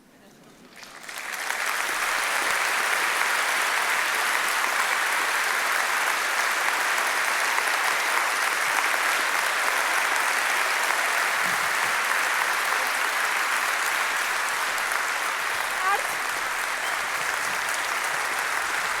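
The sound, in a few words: audience applause at an award ceremony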